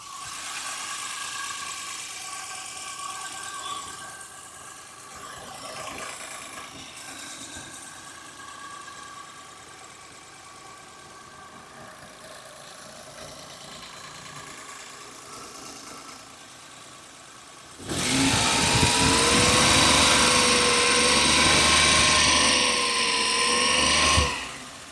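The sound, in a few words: 2007 Maruti Suzuki 800 petrol MPFI engine idling and revving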